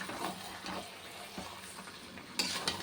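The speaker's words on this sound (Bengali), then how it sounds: "দাঁড়া নেড়ে নিই" A spoon stirs mutton browning in oil for a curry, giving a soft, steady sizzle with intermittent scraping and a sharper clink near the end, fairly quiet.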